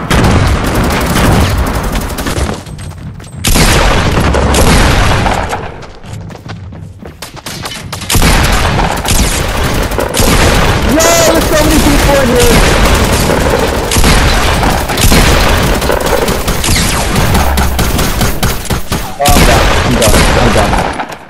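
Gunfire in Fortnite, SMG shots among them, comes at the player in loud, rapid bursts and booming hits that repeat across the whole stretch, with short gaps between volleys.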